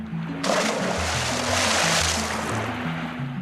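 A big splash of something jumping into water, a sudden burst of spray and churning water that begins about half a second in and carries on, with low music beneath.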